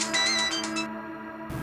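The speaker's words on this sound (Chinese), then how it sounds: "刚好手机响起来" In an office, a mobile phone rings with a fast pulsing electronic tone, several rapid bursts repeated loudly for almost a second before stopping, over a steady hum.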